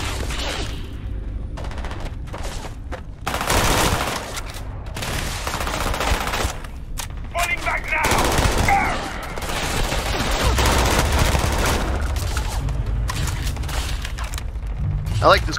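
Player's gun firing in the space game Starfield, bursts of shots scattered through a busy mix of game effects, with a voice talking over the action.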